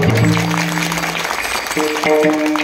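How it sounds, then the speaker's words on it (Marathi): Applause rises at a devotional kirtan for the cymbal players, a dense crowd clapping that runs the whole stretch, mixed with sustained musical tones and fairly loud throughout. "टाळकरी आणि शिष्टीमोले यांच्यासाठी जोरदार टाळ्या"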